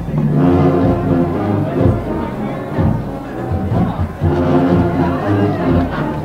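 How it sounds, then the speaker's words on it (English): Crowd noise from packed bleachers at a Ravens football game, a steady, dense roar of voices with cheering swells, loud and continuous throughout. "crowd is out here and cheering on the Ravens with full bleachers packed out."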